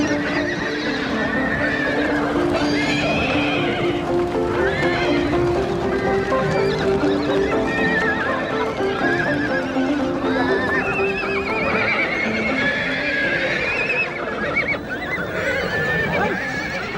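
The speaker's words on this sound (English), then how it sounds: "In early spring, herdsmen gather the horses for breaking in." Mongolian horses whinny and neigh repeatedly while their hooves clip-clop steadily, close and loud, as herdsmen round up the herd in early spring on the open steppe.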